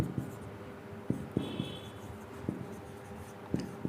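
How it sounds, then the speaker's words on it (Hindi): Chalk or marker writing on a lecture board: quiet scratchy strokes punctuated by sharp taps at irregular intervals, close and alone with no talking. "चलो इसको यहाँ से लिखता हूँ"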